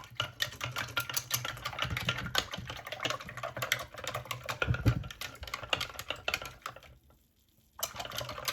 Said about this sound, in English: So I'm going to wash this brush.